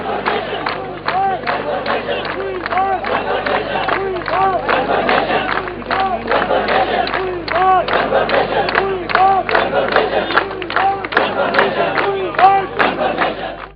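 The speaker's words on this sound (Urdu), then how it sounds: "ملازمین نے اپنے مطالبات کے حق میں مظاہرے کا آغاز ڈھول کی تھاپ پر تالیاں بجاتے ہوئے گیت گا کر کیا" Protesting employees at a sit-in clap in steady rhythm and sing together to drum beats, the crowd sound dense and continuous with shouted voices over the clapping.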